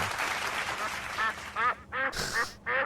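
A rapid barrage of cartoonish duck quacks played as stream sound effects, several overlapping honking quacks in quick succession, loud and close, with a crowd-like wash beneath them.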